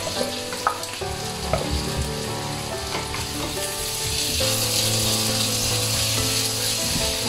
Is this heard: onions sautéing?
yes